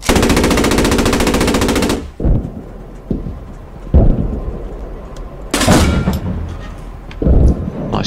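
Sustained machine-gun burst in the WWII tank game Post Scriptum, loud and dense for two seconds, then scattered heavy shots and booms echoing across the battlefield at varying distances.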